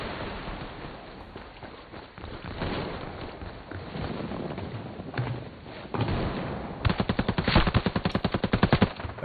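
Automatic gunfire in the online shooter Ghost War, a mix of scattered bursts and explosions giving way to a loud, rapid, evenly spaced volley of close shots near the end.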